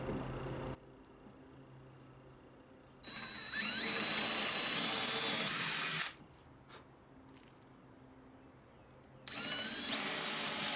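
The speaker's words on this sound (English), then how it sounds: "it's time for us to drill the pilot hole all the way through using a 1/4-inch drill bit" Power drill boring a pilot hole with a 1/4-inch bit through construction grade lumber for a loft bed build, three loud bursts of drilling separated by quiet pauses, with no talking.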